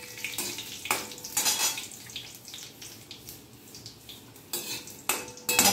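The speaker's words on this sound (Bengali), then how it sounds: "আর আমার ছাদ বাগানের তেজপাতা দিলাম ফোড়ন" Bay leaves temper in hot oil in a pan during Bengali home cooking, a faint sizzle under clattering utensil scrapes and stirring knocks, with occasional louder metallic clinks.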